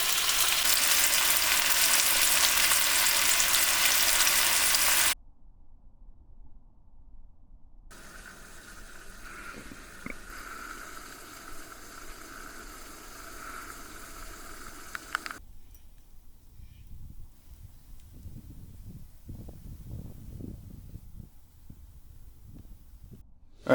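A thick piece of meat frying outdoors gives a loud, steady sizzle for the first few seconds, then fades to a quieter background hiss with faint rustling and low handling noises.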